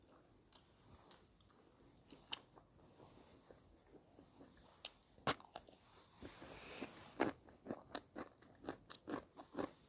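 Someone eats rice with chili paste, pineapple and crunchy eggplant, producing close, quiet crunching and wet chewing bites in an irregular rhythm that grow more frequent toward the end.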